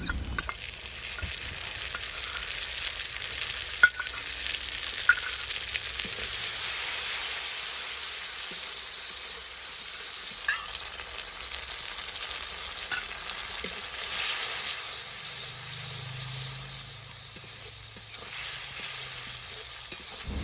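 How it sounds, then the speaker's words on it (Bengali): Ground spice paste sizzles steadily in a pan as it is stirred and cooked down for a Bengali prawn malai curry, a continuous close frying hiss with occasional scrapes and no talking. "বাটা মশলাটা দিয়ে ভালো করে কষিয়ে নিতে হবে।"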